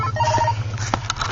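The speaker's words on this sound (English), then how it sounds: "Oh, you got a phone call." A telephone ring sounds briefly beside a rumbling rototiller engine, with a few clicks and knocks over the constant low drone.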